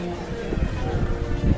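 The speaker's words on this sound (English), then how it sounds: "it's a little windy today. Sorry, guys, if you're hearing the wind" Steady rumbling wind buffeting the microphone at Magic Kingdom, a continuous low roar with gusty swells.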